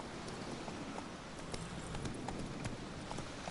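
Roach, Geralt's horse in The Witcher 3, trots with a rapid, even clip-clop of hooves, soft and steady throughout.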